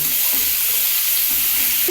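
Steady, close sizzling of onions and bay leaves frying in hot oil over a high gas flame, a continuous hiss with faint scraping of stirring underneath.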